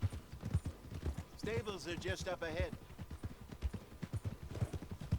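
Horse hooves clip-clop in a steady, close rhythm in the video game Red Dead Redemption 2, with a brief whinny partway through and a person talking over it.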